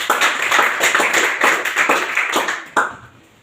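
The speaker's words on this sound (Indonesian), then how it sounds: "Tepuk tangan" A small group of students claps in a classroom, the claps uneven and loosely pulsing, close by, then thinning out to a few last claps before fading.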